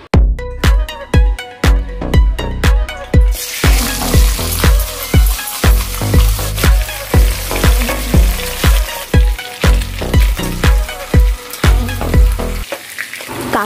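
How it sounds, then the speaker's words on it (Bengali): Crabs coated in turmeric and salt frying in hot oil, with loud, close, crackling spatter and a rapid series of sharp pops and clicks over a continuous sizzle, with no voices. "এবার ধুয়ে রাখা কাঁকড়াগুলোর মধ্যে হলুদ নুন মাখিয়ে লাল লাল করে কাঁকড়াগুলো ভেজে নেব।"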